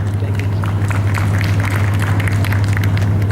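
Audience applause at a charity fund event, a dense, loud, continuous clapping from a crowd lasting the whole stretch, with a steady low hum beneath and no speech over it.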